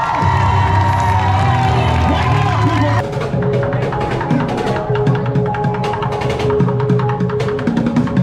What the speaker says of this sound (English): Clap your hands and let them know.